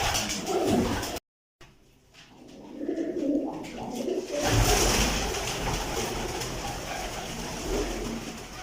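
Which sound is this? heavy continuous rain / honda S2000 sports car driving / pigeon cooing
pigeon cooing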